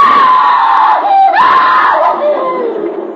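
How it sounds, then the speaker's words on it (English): A woman's long, loud, high scream from a Sherlock Holmes radio drama, set in a storm at night, wavering and rising mid-way before trailing off, heard alone and close. "I knew it was my sister who had screamed."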